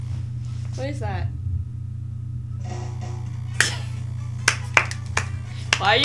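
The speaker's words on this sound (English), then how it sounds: "Why are you clapping?" A few scattered, sharp hand claps ring out near the microphone over a steady low hum while playing Mario Kart, with people talking before them.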